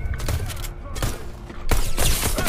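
Gunfire from players crackles in Fortnite, coming as several loud, close bursts of rapid shots over a short stretch.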